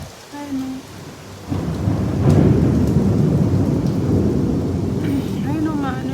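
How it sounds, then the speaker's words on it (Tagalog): Heavy rain pours down steadily with rumbling thunder rolling through, the downpour growing louder partway in and staying dense to the end, with a voice speaking at the start. "Lakas ng ulan. Ang kumukulog pa."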